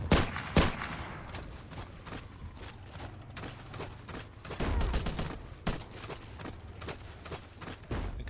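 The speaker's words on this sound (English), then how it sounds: "These rifles, even though they're semi-automatic, they're not all that great in close-quarter combat, because they fire so slowly." Semi-automatic rifle fire in the video game Battlefield 1942: sharp, loud shots at irregular intervals, with other battlefield bangs and heavy low booms mixed in, and no talking.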